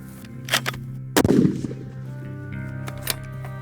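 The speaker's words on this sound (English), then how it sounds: "Just shoot." A rifle fires at a long-range target outdoors, with one sharp loud report followed by a rolling echo, amid other faint clicks and background hum.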